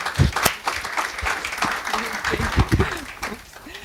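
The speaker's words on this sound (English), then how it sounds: "So please welcome her with a clap." Applause at a law school conference in Nairobi welcoming a multilingual protocol officer, continuous clapping from the audience with a voice speaking over part of it.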